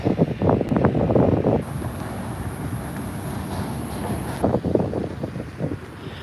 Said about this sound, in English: there's a strong wind here